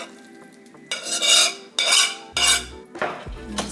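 Spreading cooked beef samosa filling across a baking pan with a utensil, four distinct scraping strokes of metal against the pan, close and fairly loud, with a faint hum underneath and no talking.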